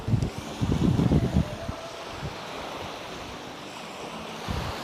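Small, gentle ocean waves wash onto a beach in Albay, with soft surf rolling and breaking close by in uneven bursts over a steady windy hiss.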